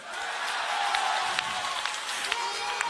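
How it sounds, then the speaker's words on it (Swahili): A large crowd at a Jubilee NDC political rally at Ngong Racecourse applauds with steady, dense clapping and scattered sharper claps, a broad roar heard from a distance. "Simpigie Raila Odinga makofi"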